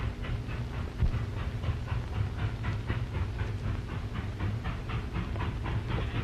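Runaway railroad cars rolling along the track with a steady, rhythmic clickety-clack over a low continuous rumble, heard without any talking.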